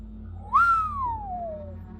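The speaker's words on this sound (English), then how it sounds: "I whistled." A single person whistles one note that swoops up quickly, then glides slowly downward over about a second and a half, clear and fairly close against a quiet low hum.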